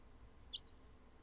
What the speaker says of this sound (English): that bird that just chirped